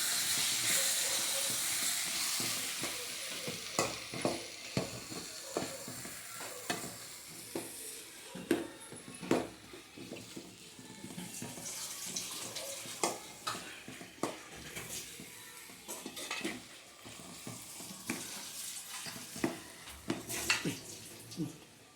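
Chopped tomatoes are stirred in a hot cooking pan, with a steady sizzling hiss under repeated scraping and clinking strokes of a utensil against the pan, at close range throughout.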